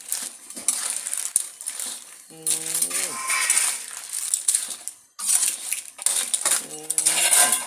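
Clams stir-frying in a pan with oyster sauce and basil, a busy metallic clatter of shells and utensil scraping against the pan, loud and close, with a voice talking over parts of it.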